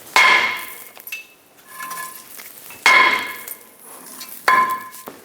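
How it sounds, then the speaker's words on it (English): Three hard metallic hammer strikes knock a seized brake rotor off the hub of a Ram 2500 truck, ringing out at uneven intervals, each a sharp clang with a bright, lingering ring, plus a few lighter taps between. "use my large hammer, basically hammer it off of the hub here"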